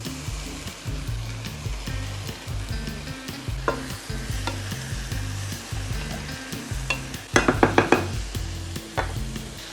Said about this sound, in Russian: Все вместе обжарю еще буквально 2-3 минутки.